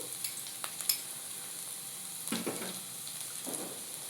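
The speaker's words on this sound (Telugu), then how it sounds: "వెల్లుల్లిపాయ ఇంకా పచ్చిమిరపకాయలని ఫస్ట్ వేయించుకుందాము" Garlic and green chillies fry in about a tablespoon of oil over a low flame for chilli garlic egg fried rice, giving a quiet, steady sizzle with a few soft clinks and scrapes of stirring.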